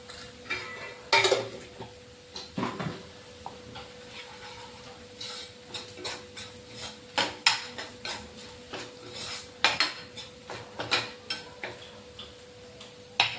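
Onions browning in a pan with turmeric added, utensils clinking and scraping against the metal in a home kitchen; repeated light taps and stirring clatter with a steady sizzle underneath, no talking.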